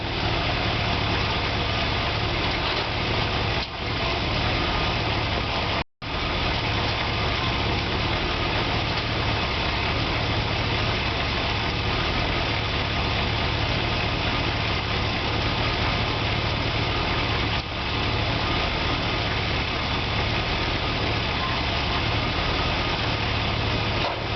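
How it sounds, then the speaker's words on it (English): A Chevy C20 truck engine idles steadily and loudly with the transmission in park, a constant low rumble with a brief dropout partway through. "engine idling and transmissions in park"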